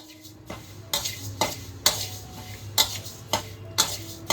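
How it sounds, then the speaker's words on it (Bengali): Moong dal dry-roasts in a pan while being stirred, repeated rhythmic scraping and clinking strokes of a spoon against metal at about one-second intervals over a faint sizzle, close by. "100 গ্রাম মুগ ডালকে আমরা শুকনো খোলায় ভেজে"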